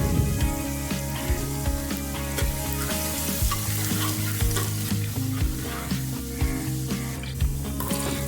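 Chopped garlic fries in two tablespoons of cooking oil in a pan, a loud, continuous close sizzle broken by scraping and stirring clatter from a utensil against the pan.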